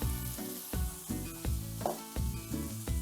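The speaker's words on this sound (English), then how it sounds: "now I'm going to sprinkle a little bit more of my fajita spice mix" Chicken fajita pan sizzling loudly while fajita spice mix is sprinkled in, with a steady frying hiss and repeated short stirring scrapes in a regular rhythm, no voices.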